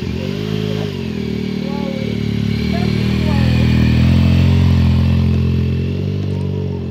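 A motorcycle engine fires up and revs, its throaty mid-range rumble swelling and easing under steady idle, fairly close and loud, with people talking over it.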